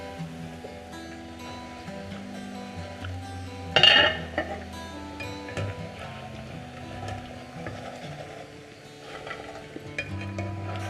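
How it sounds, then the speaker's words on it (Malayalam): Soya chunks frying in a pan are stirred, with metal utensils scraping and clinking against the pan, a louder clatter early on, and a low sizzle running under the intermittent stirring; no speech. "ഇടയ്ക്കിടെ നന്നായി ഇളക്കി കൊടുക്കുക."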